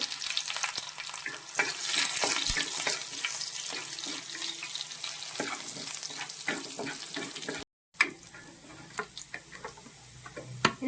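Mustard seeds, onion and red chillies fry in hot oil, giving a dense, steady crackle of close popping and spattering that cuts out briefly before resuming.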